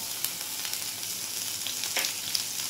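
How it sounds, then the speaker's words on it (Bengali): Potatoes frying in a pan with ginger paste stirred in give a steady, close hiss of sizzling oil with a few brief scraping touches. No one speaks. "এটা দিয়ে আমি আলুর সঙ্গে ভেজে নেব ভালো করে"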